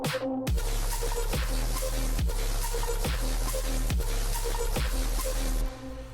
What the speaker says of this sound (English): The second drop sounds like this.